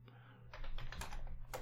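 Quiet, quick typing on a computer keyboard, a short run of light key clicks with a couple of louder taps near the end, heard alone in a quiet room.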